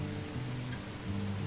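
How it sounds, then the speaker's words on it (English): Steady rain from the train game Railroads Online hisses evenly, soft and continuous, under a low droning hum. "Rain's a little intense today."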